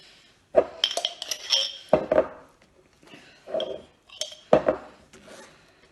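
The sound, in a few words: knife spreading jam on a scone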